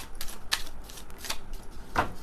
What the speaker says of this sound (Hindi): let's shuffle the cards